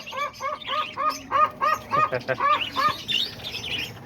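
Caged lovebirds, cockatiels, parakeets and diamond doves chirp in rapid, repeated bursts close by, a steady run of bright calls with a few softer tweets trailing off.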